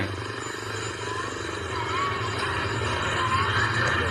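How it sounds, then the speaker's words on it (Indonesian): A horse pulling a carriage neighs amid a busy outdoor tourist scene in Yogyakarta, with hooves, steady background rumble and faint voices nearby. "Ada kereta kuda."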